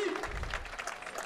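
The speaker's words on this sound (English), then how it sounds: "Let's give the girl a round of applause." Spectators at a school hockey festival give a hockey player a round of applause, a brief scattered clapping under a commentator's voice.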